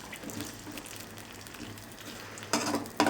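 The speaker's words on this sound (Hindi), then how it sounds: "सिर्फ आलूओं को फ्राई करना है।" Potatoes frying in cooking oil in a pan, a spoon stirring now and then, with a soft steady sizzle and scraping that grows louder near the end.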